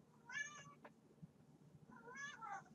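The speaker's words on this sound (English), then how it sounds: "Sorry if you hear my cat." A cat meows twice, faint and a little distant, with a pause of over a second between the two calls, against quiet room noise.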